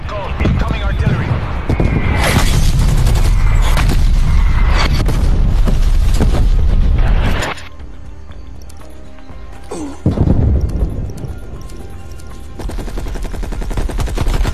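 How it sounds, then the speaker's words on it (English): Incoming artillery strike in Call of Duty: Black Ops Cold War, loud dense barrages of explosions and rapid gunfire rolling for several seconds, dropping out abruptly, then another heavy blast and scattered impacts, with a voice briefly heard. "Incoming artillery."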